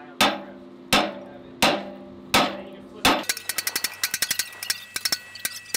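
Four slow, ringing hammer blows on metal on an anvil while forging a hammer, then a quick run of lighter, rapid strikes, clear and close with a bright metallic ring.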